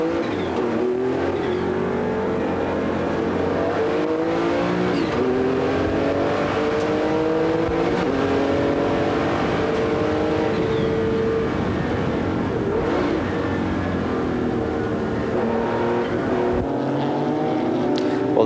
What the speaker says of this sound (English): We go on board with Jean-Pierre Jarier in the number 86 Labra competition Porsche, the car that had won at Paul Ricard